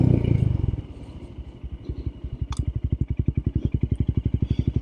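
Royal Enfield Scram 411 motorcycle on a short test ride, its single-cylinder engine thumping in a steady, quickening pulse close by, with a brief clatter early on.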